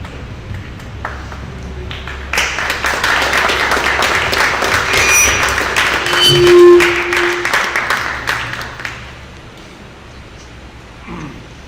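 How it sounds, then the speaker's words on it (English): Audience applause for Professor Whitney at a design event, a dense clatter of clapping that builds quickly, stays loud for several seconds, then tapers off, with a few sharp pings mixed in. "Big round of applause for Professor Whitney"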